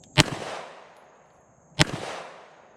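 Two sharp gunshots from a Zastava M70A pistol fired at a target, spaced a little over a second apart, each a loud close crack followed by a short echoing decay.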